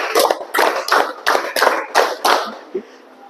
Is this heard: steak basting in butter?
no